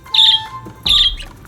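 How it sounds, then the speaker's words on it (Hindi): Budgerigar call: two sharp, loud chirping squawks with shrill whistling tones, a short pause between them, heard close and alone. "तो बच्चों बजी की साउंड कैसी होती है?"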